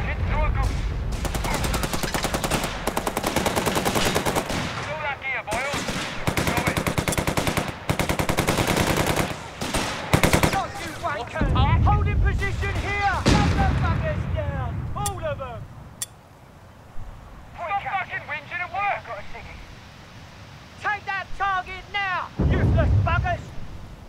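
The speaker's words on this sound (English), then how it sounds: "They're shooting at you!" Bursts of machine-gun fire and artillery from the video game Company of Heroes 3, in a village-defence battle with British forces. Dense, loud volleys come in waves, with voices shouting over them and quieter pauses between salvos.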